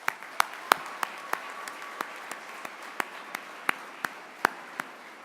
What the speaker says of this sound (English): Another round of applause for all of those students.